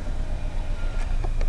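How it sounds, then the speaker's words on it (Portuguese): A Ford Fiesta engine running at idle, a steady low rumble close by that holds through a short stretch with a slight rise at the end, no talk. "Pronto, é veículo funcionando."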